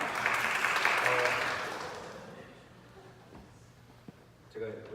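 A church congregation claps loudly after a song for about two seconds during a Sunday sermon, then the applause fades away and a voice begins speaking.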